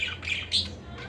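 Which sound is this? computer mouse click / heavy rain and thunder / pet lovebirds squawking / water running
pet lovebirds squawking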